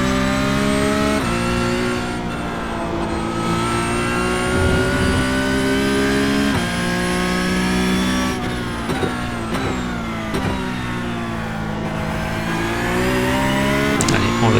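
A Porsche Cup race car in iRacing at Road America, its engine revving and climbing through the gears with loud rising whines and brief dips at shifts, while someone talks over it.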